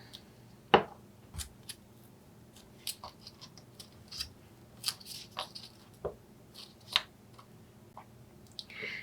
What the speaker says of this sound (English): cut 3 1-inch pieces out of foam core board, stack and glue them together